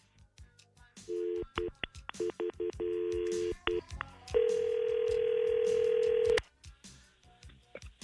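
Telephone tones play as a prank call is placed to ask about sending roses. Short bursts of dialing beeps come first, then a long, steady ring tone. All of it is faint and clean, with no voices.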